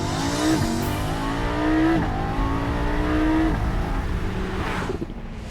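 A Lamborghini Huracán LP610-4 Spyder's high-revving V10 engine screams through rising gear pulls, each climb cut by a quick shift, then the roar fades away at the end.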